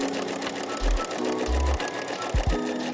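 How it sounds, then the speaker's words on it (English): A sewing machine runs steadily, stitching fabric with a presser foot while shirring, its quiet, even mechanical whir broken by a few low thumps near and alone, with no talk. "As I'm stitching, my previous stitch is lining right up with my presser foot."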